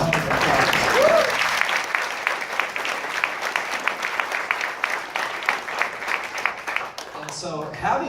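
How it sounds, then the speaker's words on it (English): An audience gives a sustained round of applause for teacher of the year honorees, dense even clapping lasting several seconds before tapering off, with a voice briefly heard over the start and the end. "So let's give them one more round of applause."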